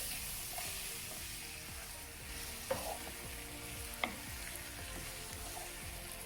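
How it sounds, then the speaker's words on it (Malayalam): Tomatoes added to sizzling prawn biryani masala with ginger, green chilli and garlic in a hot pan for Kannur-style dum biryani. A steady close frying hiss carries stirring scrapes and two sharp utensil knocks, with no talking. "ഇനി ഇതിലേക്ക് തക്കാളി ചേർത്ത് കൊടുക്കാം."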